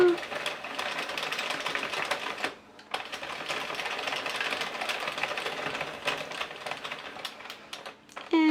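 An Addi Express knitting machine runs through rows of a twisted headband, giving a steady mechanical clatter of needles and carriage, with a short pause partway through before the rattling resumes.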